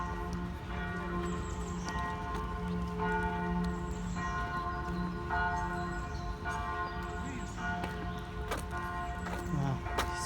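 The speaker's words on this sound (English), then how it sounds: "So they started sounding the bells." Basilica bells in Brussels ring continuously with steady, overlapping peals that fill the space, resonant and sustained for the whole stretch.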